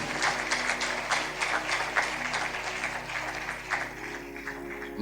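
A congregation at a sermon claps loudly and steadily throughout, a dense continuous wash of many hands filling the room with no break.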